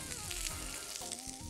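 Shrimp frying in a hot pan, giving a steady, dense sizzle that holds evenly throughout at close range, with no talk over it.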